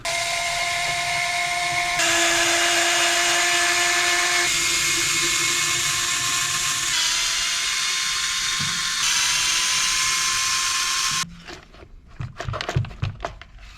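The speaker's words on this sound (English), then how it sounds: "we're going to undo this screw right here to take the linkage off of that servo" A power driver whirs steadily while undoing screws on a Traxxas Slash 2WD RC car chassis, a continuous high-pitched motor whine with pitch shifts, then stopping into a few faint clicks and handling noises.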